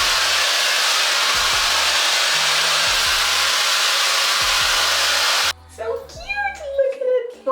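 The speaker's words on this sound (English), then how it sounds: "This is my Ion hair dryer from Sally Beauty, and we're gonna use it to diffuse my hair." An Ion hair dryer with a diffuser attachment runs loudly and steadily while drying curly hair, then switches off, leaving someone talking nearby.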